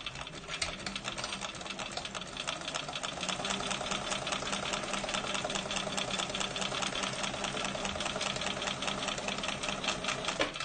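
Domestic sewing machine stitching across a bag strap, a fast continuous mechanical whirr with rapid needle clatter, running steadily and fairly close without talk.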